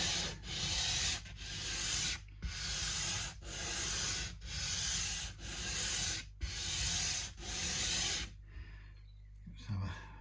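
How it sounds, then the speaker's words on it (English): A budget belt and disc sander works a piece of wood, giving loud, rasping strokes in a steady rhythm of about one per second, each separated by a brief pause, before the sound tapers off. "A budget belt and disc sander."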